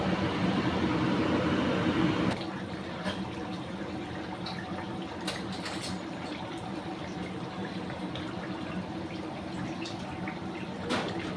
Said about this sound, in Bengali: এখন ঝোলটা যে ফুটে উঠলো পুরো টকবক করে